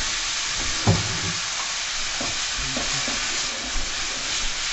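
Ground beef with spices frying in a pan, a steady broadband sizzle with occasional scraping stirs and clicks of a utensil, close and continuous, no voices.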